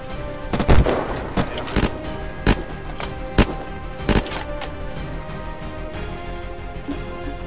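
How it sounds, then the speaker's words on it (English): Gunfire in the PvP survival game Unturned, scattered sharp shots and short bursts at uneven intervals over a steady background hum, some close and loud, others more distant. "I got a guy shooting at me"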